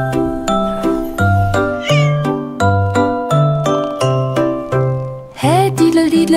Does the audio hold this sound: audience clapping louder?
no